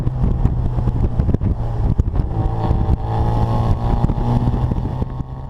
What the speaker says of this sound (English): if you get on the gas, it makes a lot of beautiful noise, like an old Anza exhaust